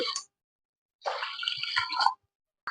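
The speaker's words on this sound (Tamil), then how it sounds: "இதுக்கு இப்போ 1க்கு 3 டம்ளர் தண்ணி ஊற்றிக்கலாம்" Water is poured into toor dal for a drumstick-leaf sambar, making a short splashing pour of about a second set between quiet gaps, close and clear with no talking.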